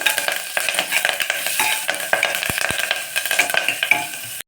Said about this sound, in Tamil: கொஞ்சம் முருங்கைக்கீரை எல்லாம் கொஞ்சம் வதக்கிட்டு